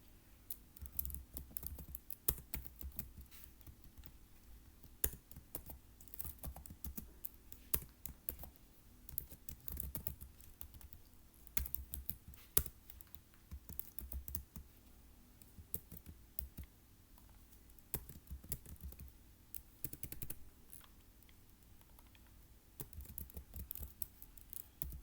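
Typing on a computer keyboard while entering a logical expression in a software tutorial: steady, irregular clatter of key presses with occasional louder clicks, close up and continuous, no voices.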